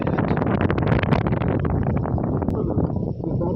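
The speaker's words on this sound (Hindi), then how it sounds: "बहुत तेज़ हवा चल रही है" Strong wind gusts across an outdoor tennis-ball cricket ground during a semifinal match, a loud, continuous roaring buffet on the microphone that eases slightly toward the end.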